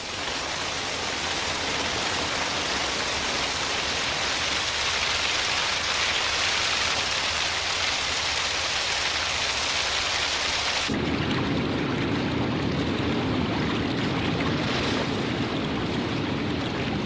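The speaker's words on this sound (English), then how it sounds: "Storms sweep in from the Atlantic, bringing Karap some of the heaviest rainfall in the world" Heavy tropical rainstorm pounding an African jungle, a dense, steady roar of rain with low thunder rumbling beneath. Partway through, the downpour shifts to a lighter, softer patter, and it stays continuous and close throughout.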